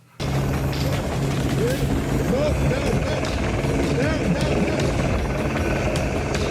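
Steady, loud helicopter rotor roar fills the whole stretch, with faint voices and whistles mixed into the continuous engine drone.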